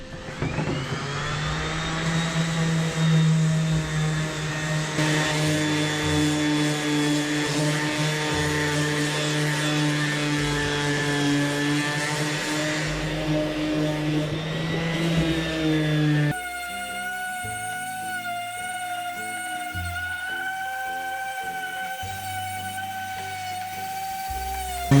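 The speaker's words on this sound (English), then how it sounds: "start off with some 60 grit sandpaper" A power sander runs steadily with 60 grit sandpaper while restoring an ottoman, a loud continuous motor whine with strong harmonics that shifts to a different, lower-level hum partway through.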